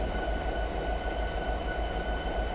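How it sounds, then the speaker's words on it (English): A long diesel coal train in the Train Sim 2020 game rolls down the line with a steady, close, continuous low rumble and rail noise, with no talking. "Big long train coming down the line."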